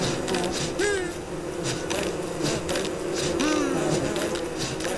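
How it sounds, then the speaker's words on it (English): Bees buzzing around a nest in the game Don't Starve, a continuous close insect drone with wavering wingbeat pitch swoops as individual bees fly past. "Oh, bees? Come on, I know I heard a nest."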